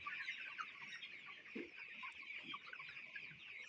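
Chickens cluck softly and continuously on a poultry farm, many birds together in a steady, busy flock chatter.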